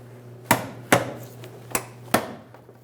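A Jeep Grand Cherokee bumper cover being tugged away from the fender gives four sharp plastic snaps and pops, spaced unevenly over a few seconds, close and fairly loud against a quiet low hum.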